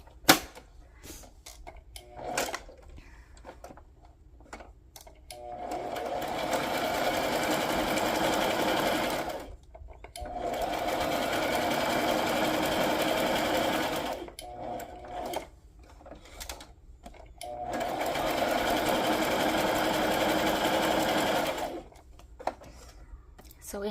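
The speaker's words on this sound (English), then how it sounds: "And I am going to sew around the bottom of that, or around this" Close up, a sewing machine stitches around a pocket made from a paper sack, running in three long steady buzzing bursts separated by short pauses with light handling clicks.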